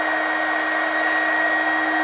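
A TACKLIFE HGP35AC mini heat gun runs with a steady, loud blowing whir and a fixed high-pitched motor whine, holding constant with no talking.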